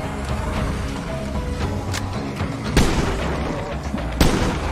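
Gunfire in the zombie survival video game State of Decay 2, a few sharp loud shots spaced irregularly over a dense, noisy background of game sound.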